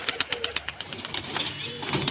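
Pigeons coo close by in a quick run of soft, repeated throaty calls that carry on steadily from start to end.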